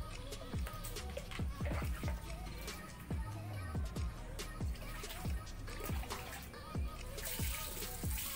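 A cactus rinsed under running water to clear off soapy insecticide, steady trickling and splashing with repeated water drops and small knocks, close and fairly quiet.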